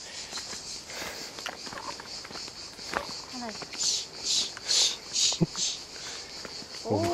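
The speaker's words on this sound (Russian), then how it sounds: "А это цикада." Cicadas in a forest in Abkhazia start up in loud, rhythmic buzzing pulses partway through, over nearby footsteps on a path, with a brief voice near the end.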